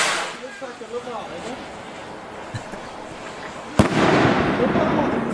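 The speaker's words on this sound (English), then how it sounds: "That's the love heart rockets." Love heart firework rockets burst with a sharp crack, then a long crackling, rumbling roar as they explode, loud and fairly close, following earlier faint pops and people talking.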